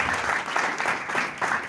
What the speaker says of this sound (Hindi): अगर समझ आ रही है तो जोरदार तालियां बजाइए, जोरदार जोरदार, ऊपर वाले।